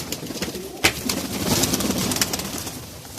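Pigeons coo and rustle together at a pigeon dealer's loft in Jhelum, a soft, continuous chorus of low calls with a brief louder flutter near the start and no talking.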